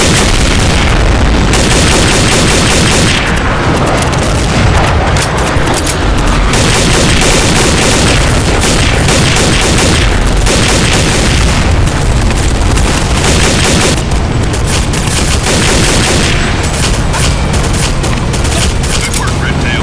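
Loud heavy gunfire and explosions from the video game Counter-Strike: Condition Zero, with dense bursts of automatic fire and booming blasts filling the whole stretch and only brief easing, while voices are heard underneath.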